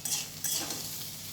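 Kudli frying with grated coconut in a pan, with a spatula stirring and scraping through the sizzle in quick, close strokes over a soft, continuous frying hiss.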